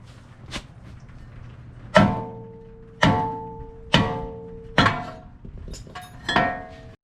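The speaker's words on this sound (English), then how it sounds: "So I'm going to be removing the rotors." Front brake rotors coming off a 1999 Toyota 4Runner: a series of sharp metallic clanks and knocks, about six spaced strikes with ringing tails, close up and fairly loud with no talk.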